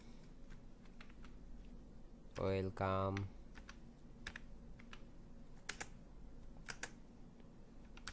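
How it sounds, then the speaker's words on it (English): Keys clatter on a computer keyboard in quick, scattered clicks throughout, while a brief voice cuts in near the middle. "I'm just add a text and typing welcome"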